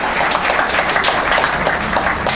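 A conference audience applauds Professor Paul Dastoor of the University of Newcastle: loud, dense, continuous clapping from a full room with no talk.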